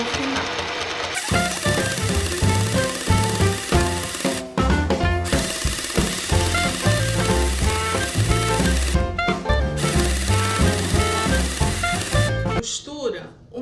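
A domestic sewing machine stitches fabric for a simple cosmetic bag, running in rapid mechanical bursts separated by short pauses, with someone talking over it throughout.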